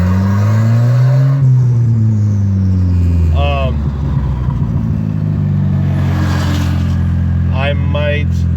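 Heard from inside the car, a turbocharged Volvo 740's engine drones loudly and rises in pitch as it accelerates, then holds a steady hum while a person talks over it.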